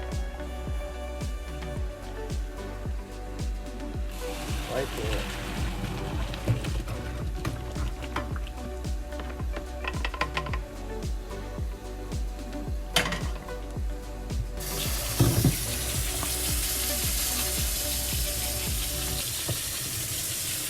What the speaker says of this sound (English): So we're gonna drain the excess water from the rice.